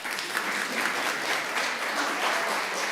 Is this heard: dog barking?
no